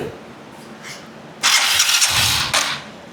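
A TVS 125cc motorcycle fires up on its self-starter: a brief quiet stretch, then a loud broadband burst as the engine catches and runs roughly, with a second surge near the end.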